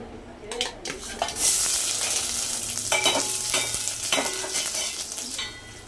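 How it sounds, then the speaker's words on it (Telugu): Chopped onions sizzle and fry in a pan with a steady hiss, while a spoon stirs and scrapes against the pan in several clattering strokes. "ఇప్పుడు ఈ ఆనియన్ మొత్తం నీట్గా వేయించేసుకుందాం"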